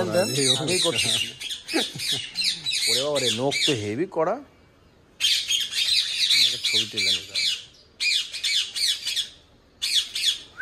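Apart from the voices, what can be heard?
violet ringneck parrot squawking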